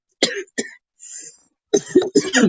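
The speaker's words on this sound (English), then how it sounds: "Sorry about the cough." A person coughs several times in short bursts, with a brief pause in the middle, close and fairly loud.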